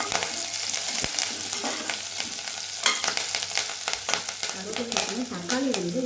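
Curry leaves frying in a pan for a Tamil green field bean curry, a close, steady sizzle and crackle with scattered sharp pops and the clatter of stirring.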